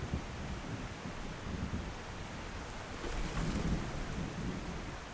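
Heavy rain pours in a dense, constant wash with deep thunder rolling underneath, growing slightly louder midway.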